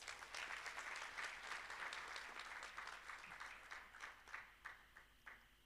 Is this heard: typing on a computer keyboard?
no